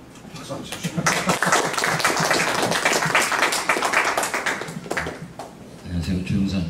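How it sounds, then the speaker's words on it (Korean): An audience at a Korean panel event on records management claps in a dense, sustained round of applause for several seconds, loud and close, with a voice speaking at the start and end. "박수 한번 주시죠."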